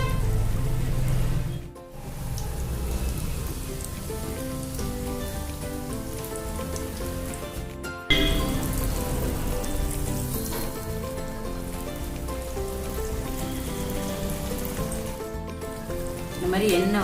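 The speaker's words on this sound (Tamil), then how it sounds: "இந்த மாதிரி எண்ணெய் வெந்து அடங்கினோடனே எடுத்துடுங்க." Jaggery adhirasam sweets deep-fry in hot oil, making a continuous, busy bubbling sizzle that stays steady and fairly loud, with a couple of brief dips.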